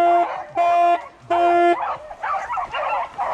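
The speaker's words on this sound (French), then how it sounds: "Il y a les chiens, les chiens, les chiens." Several hunting dogs on a wild boar drive hunt bark and yelp in quick bursts, fairly close, with short gaps between volleys and a busier, noisier stretch of overlapping yaps toward the end.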